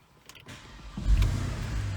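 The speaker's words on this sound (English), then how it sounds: "we're just gonna turn on the car" A Porsche engine starts: a brief click and whir are followed by a low rumble that swells and then settles into a steady idle nearby, with no speech.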